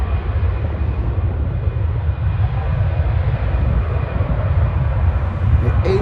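A Star Alliance-liveried A320 at Schiphol takes off, its jet engines producing a steady, loud, low rumbling roar that continues evenly throughout.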